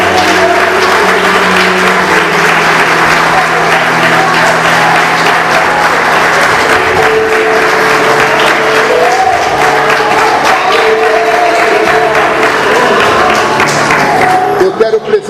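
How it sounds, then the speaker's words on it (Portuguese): An audience applauds loudly and steadily at a Christian church gathering, clapping for Jesus, with music or voices humming underneath throughout. "Você pode aplaudir a Jesus?"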